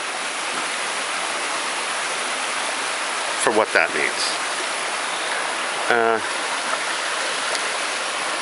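A stream flows beside a hiking trail on the Appalachian Trail between Front Royal and Harpers Ferry, its steady rushing wash filling the background while someone speaks briefly over it.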